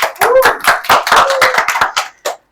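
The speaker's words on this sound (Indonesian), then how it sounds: "beri aplaus dulu" Applause in a classroom for a student group, a close burst of many hands clapping quickly and irregularly that thins out and stops with a couple of final claps.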